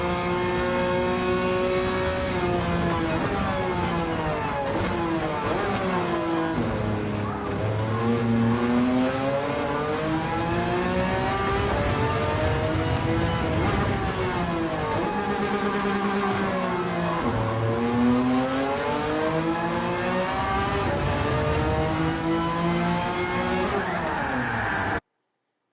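An old car's engine revs steadily in a racing video game, a loud continuous drone rising and falling in pitch through gear changes for the whole stretch, with no talking.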